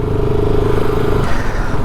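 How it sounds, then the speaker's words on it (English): A BSA Gold Star 650cc single-cylinder motorcycle engine idles with a steady, loud, throbbing thump, running continuously with a faint change in tone near the end and no voices. "It is a 650cc single cylinder engine."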